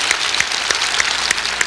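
Church congregation at a Sunday worship service clapping in unison, a steady rhythmic beat of many hands filling the room, loud and close.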